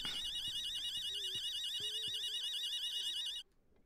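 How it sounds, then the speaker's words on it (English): A wailing, warbling alarm siren set off during a robbery in the game Dark Hours blares steadily and loudly for over three seconds, then cuts off abruptly, with a few faint low tones underneath. "I heard an alarm that I tripped"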